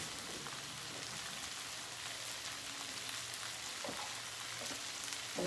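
Curry tofu fries in a pan on medium-high heat, giving a steady, close hiss and crackle that holds throughout with occasional sharper pops and slight swells in intensity.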